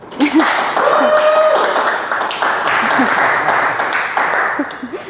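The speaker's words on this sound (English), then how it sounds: "Can I get a round of applause?" A crowd claps steadily for several seconds, a broad dense patter of applause, with brief voices and cheers mixed in.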